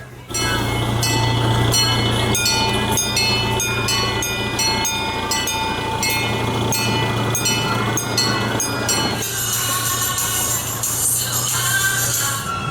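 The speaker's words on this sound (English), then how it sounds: "we have the Holodog Express, little train ride" A small theme park train ride at Holiday World rumbles along steadily with rhythmic clicking over the rails and a constant mechanical hum, loud and close throughout.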